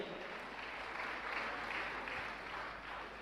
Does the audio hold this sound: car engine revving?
no